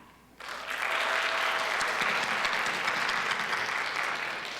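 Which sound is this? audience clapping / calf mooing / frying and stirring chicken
audience clapping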